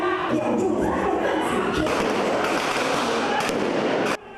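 Blank-round gunfire from police and mock attackers during an anti-terror drill inside a Taichung metro station, a dense, loud barrage of sharp bangs and thuds with crowd noise, cutting off abruptly near the end.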